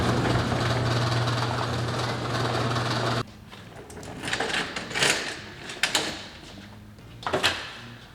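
A Husqvarna 2000 PSI 1.2 GPM electric pressure washer running with a loud, dense motor-and-pump whine and hum, then abruptly cutting off into quieter clicks and mechanical knocks.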